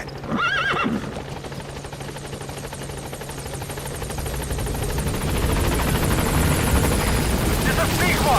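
A helicopter arrives at a landing zone in Metal Gear Solid V, its rotor chop swelling from a low rumble to a loud, close roar; a horse whinnies and hooves clip-clop at the start.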